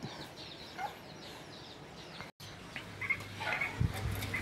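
Chickens cluck and murmur nearby in scattered bursts, with a few sharper calls over low outdoor background noise.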